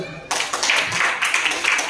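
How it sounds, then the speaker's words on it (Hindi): Children in a classroom clap together in a quick, bright burst of rhythmic hand claps that continues steadily after a brief pause, close and fairly loud. "बहुत अच्छा, ताली बजाओ।"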